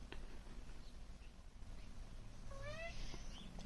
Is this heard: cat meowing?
yes